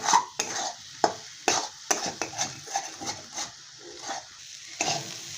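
Egg bhurji with cauliflower being stirred in a hot pan, a steady sizzle broken by repeated sharp scrapes and clinks of a spoon against the metal, close and clear with no talking.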